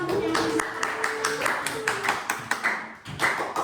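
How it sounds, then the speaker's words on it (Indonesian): A classroom of students claps hands for a classmate's answer in an economics lesson, a burst of scattered claps and taps mixed with voices and a brief tonal chatter underneath. "Beri tepuk tangannya."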